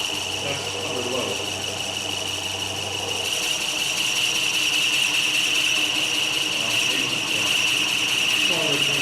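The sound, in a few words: wood lathe turning a honey pot at about 350 RPM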